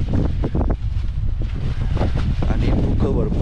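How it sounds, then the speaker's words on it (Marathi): Strong, steady wind buffets the microphone on a misty mountain trek near a waterfall, a continuous loud low roar with gusting texture throughout. "म्हणजे खूप पाऊस नाही पण हा वारा प्रचंड आहे"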